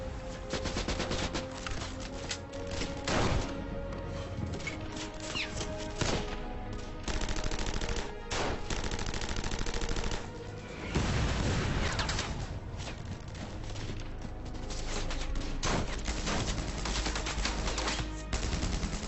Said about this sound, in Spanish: Los defensores del castillo devuelven los disparos, pero son superados en número.